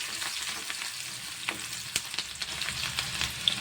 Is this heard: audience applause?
no